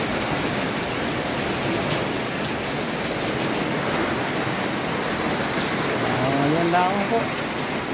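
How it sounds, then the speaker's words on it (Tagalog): Heavy rain pours down steadily in a dense, loud roar, with a voice speaking briefly near the end. "Lalo pang lumakas ang ulan."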